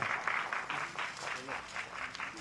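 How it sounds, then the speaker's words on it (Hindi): Steady applause from a crowd at a music album launch, with rhythmic bursts of clapping swelling and easing throughout, mixed with some voices underneath. "अब तो तालियां बज दीजिए, जोरदार तालियां।"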